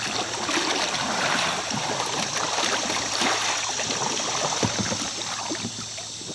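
Paddle strokes splash and drip as a boat moves on a river during a metal detecting outing, close watery swishes and trickles over a steady flowing-water background, no talking.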